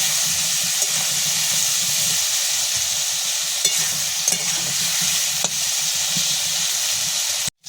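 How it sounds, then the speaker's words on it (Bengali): Vegetables with turmeric fry in a pan, giving a steady, loud sizzle that runs unbroken throughout with faint stirring clicks and no voices. "হলুদ দিয়ে সবজিগুলো লাল লাল করে ভেজে নেব"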